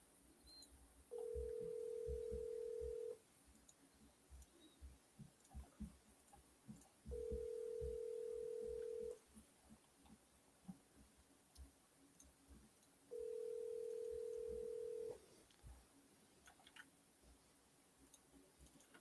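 Outgoing phone call ringing unanswered, three steady ringback tones about two seconds each with gaps between, heard close over faint line noise.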